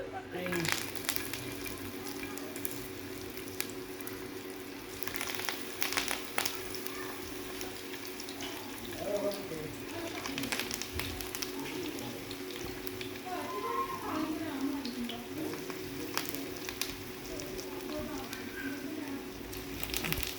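Seekh kababs sizzle and fry in a pan with steady oil crackle, a continuous close hiss and occasional small pops, as someone talks over it in Hindi-Urdu.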